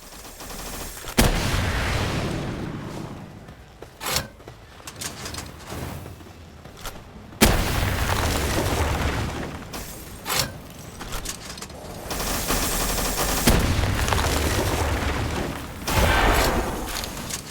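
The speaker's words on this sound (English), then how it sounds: "As for the rocket launcher, well," Rocket launcher shots in Palworld: a series of loud, sharp blasts, each one trailing into a booming rumble, with heavy explosive noise running through the whole stretch and no talking.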